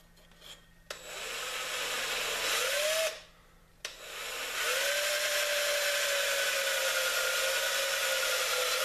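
Hand reamer boring out an EVA foam fishing rod grip, a close, loud grinding rasp in long sustained passes with a brief pause, then a steady scrape that continues to the end.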